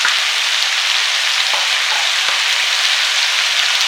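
Ginger garlic paste frying in a hot pan, a steady, loud, close broadband sizzle with faint crackles, continuous for the whole stretch with no voices.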